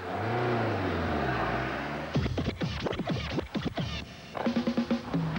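An Italian car engine: a smooth low drone first, then sharp rising revs and rapid gear-change sweeps, loud and close, ending in another burst of throttle blips.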